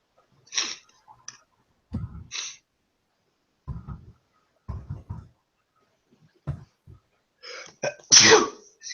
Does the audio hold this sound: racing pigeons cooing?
no